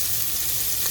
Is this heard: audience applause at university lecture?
no